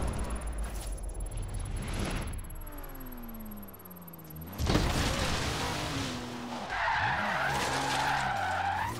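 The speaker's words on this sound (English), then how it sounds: "this MX5 is better to drift" A Mazda MX5 drifting, with sustained tire skidding and squeal against a rising and falling engine note, loud and close, in several long slides separated by a brief lull.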